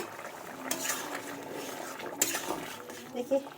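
A lid comes off a cooking pot of curry with a couple of metallic clinks and scrapes over soft background noise, while a voice speaks nearby.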